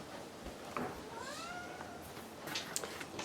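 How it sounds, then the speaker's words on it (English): A house cat meows loudly indoors, a couple of drawn-out rising and falling cries over faint room noise, moderately close. "my cat's screaming at my son, because that's what she does"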